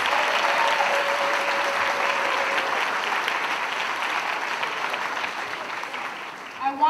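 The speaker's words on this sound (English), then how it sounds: "Give yourself an applause." An audience applauds steadily for nearly seven seconds, a dense, even wash of many hands clapping that tapers slightly toward the end.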